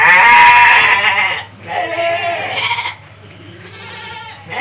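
Sheep bleat loudly and close by, a few wavering calls one after another with short pauses, the last ones softer.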